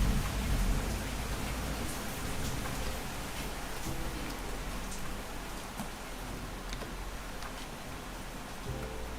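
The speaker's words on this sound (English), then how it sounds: "Yeah, I can hear the rain." Steady patter of rain falling on a surface, a continuous wash of noise with scattered sharper drops, no voices.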